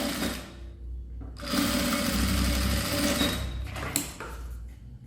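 A sewing machine stitches a zipper edge onto the edge of fabric for a unisex zippered toiletry bag, running in steady bursts with a brief pause, then a sustained loud whirring run, close and alone.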